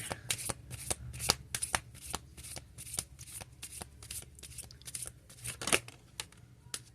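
Tarot cards are shuffled and pulled in a quick, close, crisp flurry of riffles and slaps that runs steadily throughout, with no talking.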